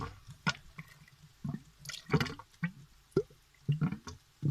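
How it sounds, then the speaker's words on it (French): Water starts to flow in faint, scattered trickles and drips with irregular splashy bursts, close and quiet with no voices. "j'essaye de faire venir de l'eau"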